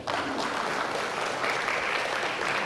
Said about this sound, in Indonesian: Tepuk tangan untuk prasasti.